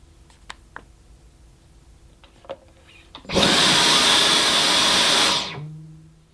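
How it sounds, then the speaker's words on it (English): A Dyson Digital Slim cordless vacuum cleaner with its full-sized motor head starts up loud and steady on boost mode, whines for about two seconds, then cuts out abruptly and spins down, after a few quiet clicks. "on boost mode, the full-sized motor head wouldn't go at all, it cut out immediately"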